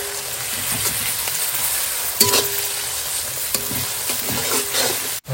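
Chopped ginger and garlic fry in a hot pan with a steady, close sizzle, broken by a few sharper clatters of stirring and a brief thump near the end.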